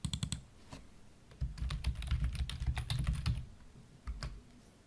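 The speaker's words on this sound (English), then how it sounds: "I'm going to double-click and type in Introduction." Keys clatter on a computer keyboard as a short word is typed in, with a brief burst of clicks, a pause, then a rapid run of close, crisp keystrokes.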